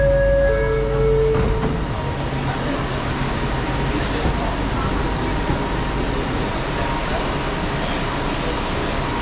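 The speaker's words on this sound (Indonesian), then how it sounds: "Nah, yang ini namanya LRT, bro ya. Ini namanya LRT." Underground LRT light rail train at Pasar Seni station in Kuala Lumpur, a steady loud rumble of the moving train with brief tones at the start, continuous throughout.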